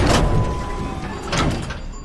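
A sliding containment door in SCP: Containment Breach rumbles open with two distinct whooshing slides, one at the start and another a second later, close and fairly loud with a faint mechanical hum between.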